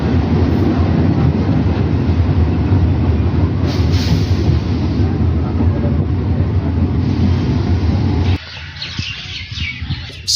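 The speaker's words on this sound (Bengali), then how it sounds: "ট্রেনে সময় লাগে 15 মিনিট মতো, আর মাঝে পড়বে দুটো স্টেশন" A train running between stations on the way to Somra Bazar rumbles loud and continuous with rattling carriage noise, then drops abruptly to a quieter interior near the end.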